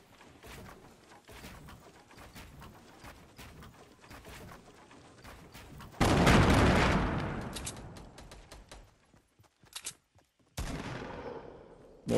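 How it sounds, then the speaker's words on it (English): Video game gunfire rings out: rapid bursts of shots run steadily for several seconds, then a loud sustained blast and a few more quick bursts follow, all close and dominant with no talk over it. "Yeah, they're shooting people."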